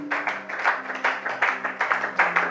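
A church congregation claps rhythmically during a French-language sermon, a steady pulsing beat of many hands at moderate volume with a sustained tone underneath.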